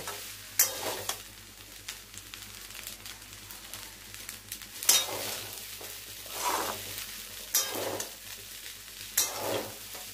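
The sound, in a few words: stirring and mixing pasta frying in a pan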